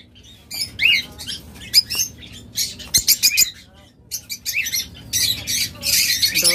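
Caged pet birds for sale, lovebirds, budgerigars and cockatiels, producing busy overlapping squawks and chirps in bursts, close and fairly loud, with brief pauses between flurries.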